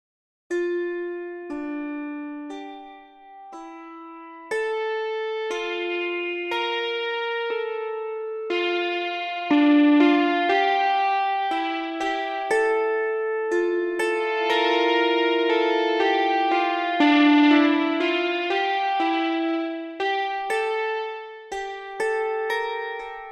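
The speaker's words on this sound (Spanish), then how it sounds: "En el instrumento del auto arpa tenemos un control que dice variación, que podemos usarlo para que suene por un amplificador" Spitfire LABS autoharp melody played through its amplifier variation, plucked notes with a gritty amplified tone ringing out in a slow, echoing line that thickens midway, continuous and fairly loud with no voices.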